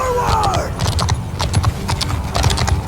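Cavalry horses gallop in the Bannerlord video game, a dense, rapid patter of hoof clops rolling steadily and close, with a brief swooping tone at the start and some talk mixed in.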